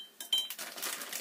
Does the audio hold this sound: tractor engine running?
no